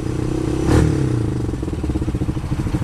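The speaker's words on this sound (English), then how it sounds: "It's got a little burly exhaust, sounds aggressive." A 150cc UTV utility vehicle's engine with a burly aftermarket-style exhaust, idling with a close, throbbing low rumble that swells briefly and then settles into a steady pulsing chug.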